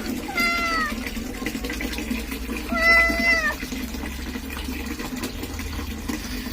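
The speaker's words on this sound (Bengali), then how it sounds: "2 মিনিট ম্যাও ম্যাও ম্যাও ম্যাও ম্যাও ম্যাও করে করে আমাকে টলারেট করতে হবে" A cat meowing during a bath, letting out two drawn-out, rising-and-falling complaining meows over running water and steady background noise.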